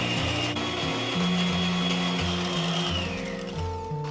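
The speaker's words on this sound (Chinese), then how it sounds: "然后用打蛋器打发" An electric egg beater whips egg yolks with white sugar for a tiger-skin roll, a loud steady motor whine with shifting pitch as the beaters move through the mixture, continuous and close, no talking.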